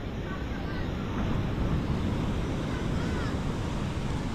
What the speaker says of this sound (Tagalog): Grabe, ang lakas ng hangin. Ito na yung bagyong Opong.